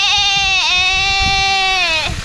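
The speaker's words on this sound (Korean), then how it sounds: "이거 배고픈 염소" A hungry goat bleats in one long wavering, strongly voiced cry lasting about two seconds, loud and close, with no other sounds around it.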